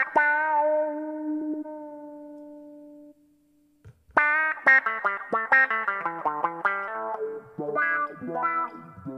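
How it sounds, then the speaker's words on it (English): An electric guitar through a Zoom G1 effects pedal plays a sustained chord that rings out and fades, then a run of notes follows, each trailing off in a wet reverb tail. "as you can hear, a reverb going as well"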